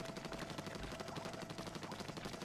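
Splattershot Jr. from Splatoon firing continuously, a dense stream of rapid, loud, squirting shots with game music and turf noise behind.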